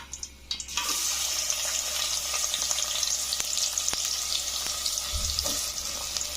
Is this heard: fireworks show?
no